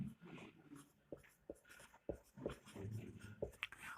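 Chalk or pen strokes on a board during a physics lesson, with a series of short, distinct taps and scrapes spaced irregularly across a quiet room.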